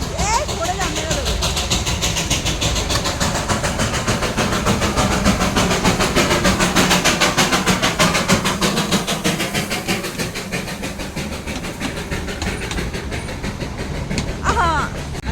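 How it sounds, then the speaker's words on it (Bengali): Diesel locomotive train approaching on the Darjeeling railway, a steady close rumble with rhythmic rail clatter throughout, under excited talking. "আর এটা হলো ডিজেল ইঞ্জিন। ট্রেন আসছে,"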